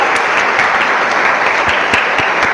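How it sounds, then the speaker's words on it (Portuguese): An audience bursts into loud, dense applause, many hands clapping close by in a steady, unbroken wash with no voices standing out. "eu queria pedir palmas para vocês"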